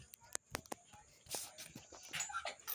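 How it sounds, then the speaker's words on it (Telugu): A dog whimpers and lets out a few short, sharp barks in bursts, with footsteps and quiet human voices around it. "మా కుక్క జుంగ ఇగో చూడండి."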